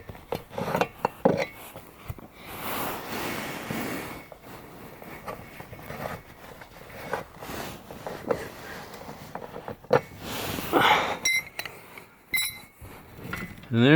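Rear bench seat in a Chevrolet G20 van being slid to the center and pulled out, giving scattered metallic clunks, scrapes and rattles at irregular intervals, fairly close, with speech in places.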